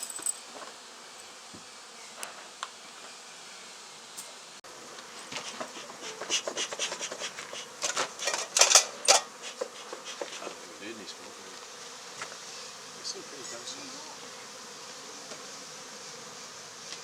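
Honey bees buzz steadily while being moved into a nuc box at an engine museum, a close, continuous insect drone with scattered scraping and rubbing of comb and wood rising in the middle.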